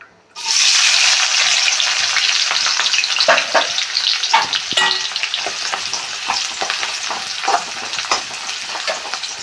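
Onions dropped into two tablespoons of hot coconut oil in a pan, a sudden loud burst of sizzling that settles into steady frying with spatula clicks and stirring, close by, no talking.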